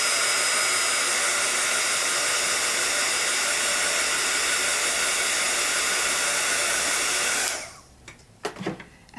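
A heat tool or hair dryer blows steadily and loudly while drying stamp paste for a crafting project, a continuous broadband whoosh that cuts off abruptly near the end, followed by a few faint handling clicks.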